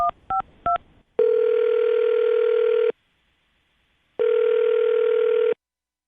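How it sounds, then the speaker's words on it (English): A telephone dialing a number: three short keypad tones in quick succession, then two long steady ringback tones separated by silence, clear and close with no voices. "I'm going to dial her phone number right now"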